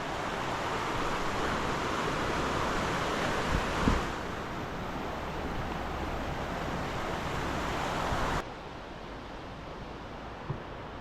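River rushing through the Aberglaslyn pass in Snowdonia, Wales, a steady broadband roar of flowing water close by, continuous and loud with a slight drop near the end, no talking.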